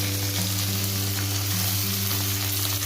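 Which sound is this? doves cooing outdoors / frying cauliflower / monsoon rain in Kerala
frying cauliflower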